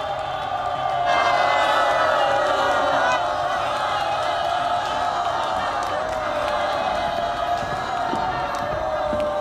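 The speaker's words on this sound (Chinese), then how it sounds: "我们掌声欢迎苏子航先生" An audience applauds and cheers to welcome a presenter at an award ceremony. The clapping and whoops form a dense, sustained wash that stays at an even loudness for the whole stretch, with some voices mixed in.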